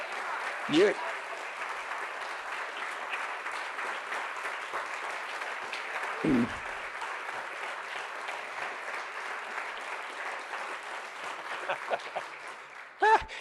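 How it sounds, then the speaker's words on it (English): An audience applauds at an award presentation during a summit, a sustained even clatter of many hands lasting the whole stretch, with brief bursts of a voice cutting in at moments. "I love it that you all applaud just at the mention of her name."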